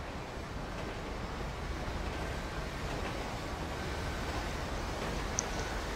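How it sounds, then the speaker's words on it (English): A train rolls past in the GTA V video game, a steady, fairly quiet rumble and rattle of rail cars held at an even level throughout, with no voices. "Is there a train coming?"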